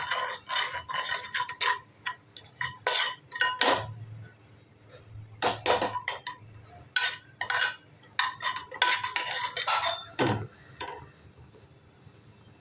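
A spoon stirring and scraping egg masala in a metal kadhai, with irregular clinks and scrapes in bursts and short pauses between them.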